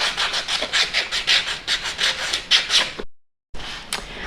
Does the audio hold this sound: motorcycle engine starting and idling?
no